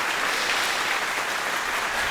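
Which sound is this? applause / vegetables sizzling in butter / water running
applause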